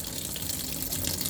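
Tap water runs through a hose into a Samsung single-tub washing machine converted to manual filling, a steady close rushing gush that stays loud and even throughout with no voices.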